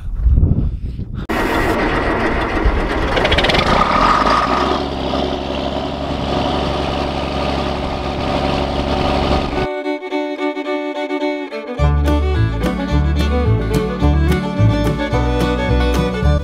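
A loud tractor engine sputters and catches, roaring steadily, then after a short pause settles into a rhythmic, knocking idle close by.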